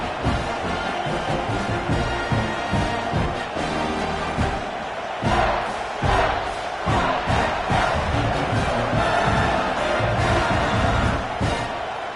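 Stadium crowd noise from EA College Football 26 surges in waves of cheering and yelling at a championship game, loud and sustained, swelling around a touchdown.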